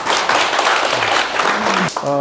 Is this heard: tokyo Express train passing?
no